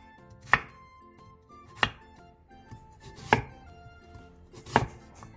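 A knife slicing radish into thin rounds on a cutting board, four sharp, distinct chops spaced about a second apart over a quiet background with faint music.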